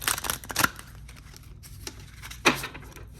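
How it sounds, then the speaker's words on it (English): Tarot cards are shuffled in a few quick bursts of riffling and slapping, with a quieter patch of soft card handling between them, close and alone with no talk. "I'm going to do a few more shuffles."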